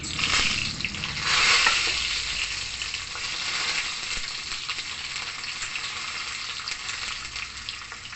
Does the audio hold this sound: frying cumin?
yes